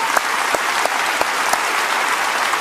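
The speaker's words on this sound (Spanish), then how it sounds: "Dale un aplauso a Jesús" A church congregation applauds at a worship service, a steady wash of many hands clapping with a few sharper claps standing out, no speech on top.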